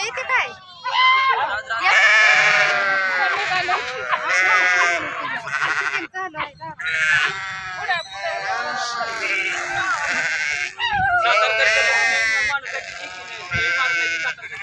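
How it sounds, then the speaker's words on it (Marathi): Sheep bleat loudly in overlapping, wavering cries, a whole flock close by calling almost without pause, heading out from their pens to graze the fields. "मेंढके बंधू आपापले कळप सोडून शेतात चारायला निघालेत"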